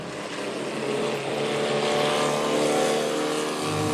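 A 1931 Austin 7 classic race car with a 750cc engine drones steadily at a distance, its buzzing note holding fairly even with no talk over it.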